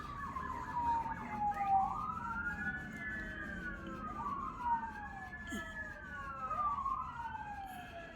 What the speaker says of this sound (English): If you hear sirens, planes,